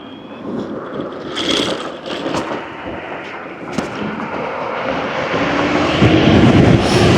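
Teverun Fighter Supreme 7260R V5 electric scooter ridden at full throttle on a highway, a loud steady rush of wind and road roar that builds gradually, with no talking.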